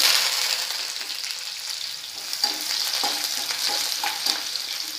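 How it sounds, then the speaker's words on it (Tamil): Chopped large onions fry in hot oil with cinnamon, cloves and cardamom in an iron kadai, a steady close hiss with a few soft scraping stirs and brief crackles, no talking. "கட் பண்ணி வச்ச பெரிய வெங்காயம் சேர்த்துக்கலாம்"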